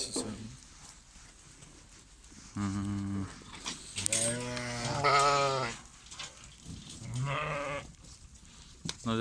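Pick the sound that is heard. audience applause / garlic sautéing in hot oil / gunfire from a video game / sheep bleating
sheep bleating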